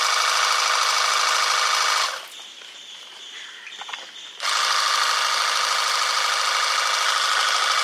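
A cordless portable pressure washer with nozzle attached runs with a loud, steady high-pitched motor whine, cuts out for about two seconds of quieter clicking, then restarts and runs evenly again.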